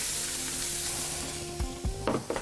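Chopped onions dropped into a hot pan of oil, left from browning lamb shank for an okra tagine, sizzle loudly and steadily, with sharper crackling bursts near the end as they are stirred.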